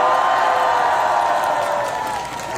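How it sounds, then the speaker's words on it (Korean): A large crowd at a campaign rally in Mokpo claps and cheers loudly and continuously, a dense wash of applause with scattered whoops that eases off slightly toward the end. "박수 한번 치세요"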